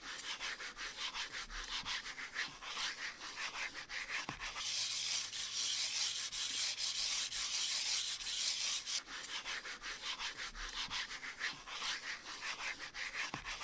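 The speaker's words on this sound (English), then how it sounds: "we're going to do a nice little scratch test again, or a sound test" Steady scratchy rubbing of a Logitech G Pro X Superlight mouse gliding on CorePads feet, continuous back-and-forth friction that grows briefly louder and brighter midway, close and alone.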